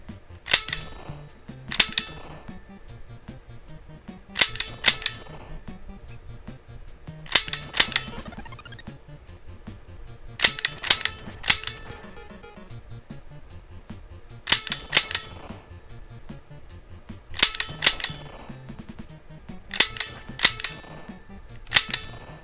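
Gunshots from the NES game Barker Bill's Trick Shooting, sharp chiptune bangs arriving in quick pairs or bursts at a steady pace, with faint electronic game tones between them, loud and alone without talking.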